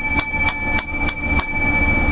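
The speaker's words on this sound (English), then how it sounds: "Seven lucky bells for progressive discussions." Small lucky bells ring five times in an even rhythm, each bright, close strike leaving a sustained shimmering tone beneath the next.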